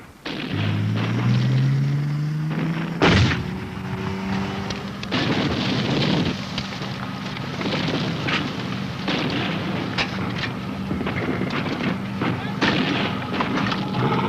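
Tanks giving covering fire in a 1983 Soviet military encounter, a sharp booming shot early on followed by scattered cracks and rumbling vehicle engine drone throughout, with a rising engine whine at the start.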